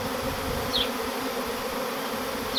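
A large honeybee swarm buzzes steadily and densely around a small hive box outdoors, a close, continuous drone with a passing insect whine flying by.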